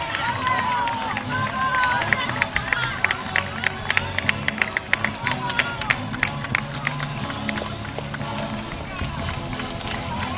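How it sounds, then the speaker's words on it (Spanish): Crowd at a women's beach handball final claps and cheers for the teams, a dense, steady wash of applause with sharper individual claps running throughout amid general crowd noise. "Fuerte aplauso a los equipos."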